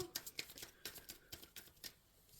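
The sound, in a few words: shuffling tarot cards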